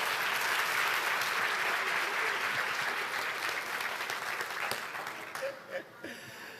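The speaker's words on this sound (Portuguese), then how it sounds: "Eu gostaria que você desse um aplauso ao Senhor pela vida do pastor Léo." Congregation applauding at a church service, a loud, sustained wash of clapping from a large crowd that tapers slightly toward the end, with a few voices rising near the close.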